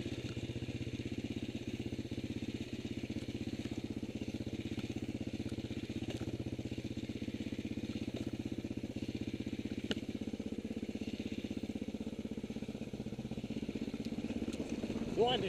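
A rally motorcycle engine labours uphill in first gear on a steady, droning mid-pitched note that holds throughout, with a rider's voice talking over it now and then.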